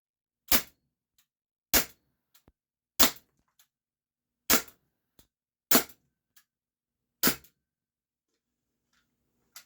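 Sig Sauer P226 CO2 air pistol fired at Play-Doh, six sharp, loud cracks spaced about a second apart, each followed by a faint tick of impact, with near silence between shots.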